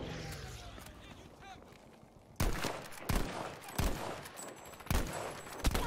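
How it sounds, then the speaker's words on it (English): Gunfire in Battlefield 5 multiplayer, with about six sharp loud rifle shots spaced out in an uneven rhythm after quiet talk from players at the start. "Stop shooting the ground."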